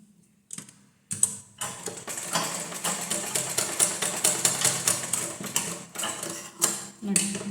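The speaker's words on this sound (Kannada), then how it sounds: "ಈ ಥರ ಬಟ್ಟೆ ಇಟ್ಕೊಂಡು ನಿಧಾನಕ್ಕೆ ಸ್ಟಿಚ್ ಮಾಡ್ಕೋಬೇಕು" A sewing machine stitching blouse fabric runs in a steady, rapid mechanical clatter of needle strokes after a couple of short starts, close and fairly loud, with brief pauses near the end.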